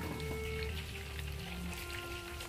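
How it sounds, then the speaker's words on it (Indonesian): Tempe bacem, sweet braised tempeh, frying in hot oil, giving a soft steady sizzle with scattered crackles that stays quiet and even throughout, with no voices. "Minyaknya usahain yang panas ya teman-teman, biar nggak terlalu banyak masuk ke dalam tempenya."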